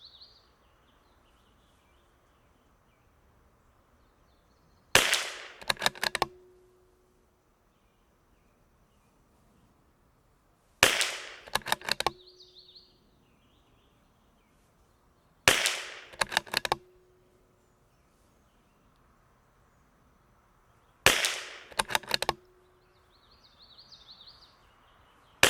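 Four loud, sharp rifle shots from a CZ457 fired at targets, spaced about five to six seconds apart, each followed by a brief ringing echo. Faint outdoor quiet fills the gaps between shots.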